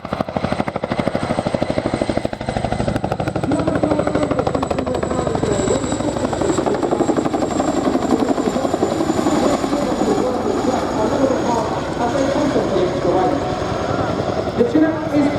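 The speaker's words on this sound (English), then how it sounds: "The Chinook is famous worldwide, not only for its ability to carry 3 underslung loads simultaneously, but also its load carrying capacity" A Chinook twin-rotor helicopter flying at the RIAT 2024 airshow gives a loud, steady rotor throb and engine roar that holds the full length, with a commentator's voice heard over the public address.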